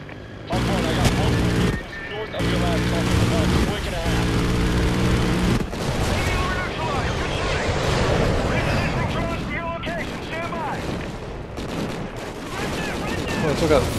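An A-10 gun run in the video game Call of Duty Ghosts: dense rolling bursts of cannon fire and explosions, loud and continuous with brief pauses and mechanical drones, while game voices talk over the combat.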